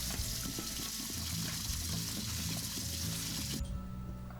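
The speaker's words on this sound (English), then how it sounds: "let's first give our potatoes a quick rinse" Water pours and splashes over baby potatoes being rinsed, making a continuous, fairly loud gushing close by. The flow changes near the end, with no speech over it.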